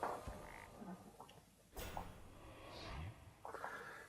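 A few low, throaty frog croaks from the video game Hearthstone sound close and quiet, separated by short pauses, with faint squelchy noises in between.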